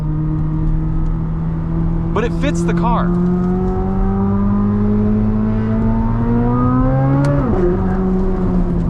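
A 2023 Chevrolet Corvette Z06 engine drones steadily, then its pitch climbs as the revs rise and drops off sharply near the end, loud and close, with someone talking briefly over it.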